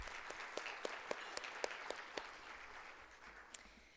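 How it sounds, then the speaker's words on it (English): Faint, scattered applause from a public administration forum audience for event sponsors, a few distinct claps standing out before it tapers off. "Let's give a round of applause for our sponsors once again."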